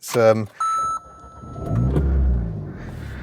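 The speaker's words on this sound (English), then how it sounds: "I'm going to start the engine" An Alpine A110 sports car cranks and starts. A short chime and electronic beep come first, then the engine catches and rises into a deep, fairly loud idle, with a voice speaking briefly at the start.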